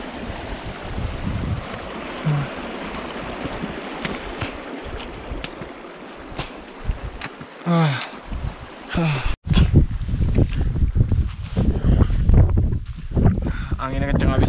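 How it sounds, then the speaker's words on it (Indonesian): Strong, cold gusting wind on the mountain trail to Lobuche near Everest Base Camp, buffeting the microphone in loud rumbling bursts throughout, with a person speaking over it. "Anginnya kenceng habis cuy. Dan dingin banget."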